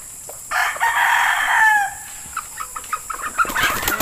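A young gamecock stag, a Kelso over McLean hatch, crows once loudly and close by, a long drawn-out call followed by softer clucks and scattered yard noises.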